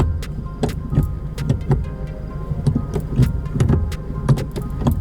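Gear lever of a Toyota 86 / Subaru BRZ / Scion FRS fitted with an IRP short throw shifter clicking through its gates: a series of short, crisp mechanical knocks and clunks, close and fairly loud, over a faint background hum.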